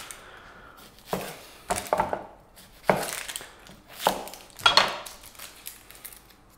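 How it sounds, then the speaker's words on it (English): Knife chopping an onion into half-moon slices on a board, in irregular single and double chops spaced across the stretch, fairly close and clear, with no talking. "we're going to chop them into half moon slices"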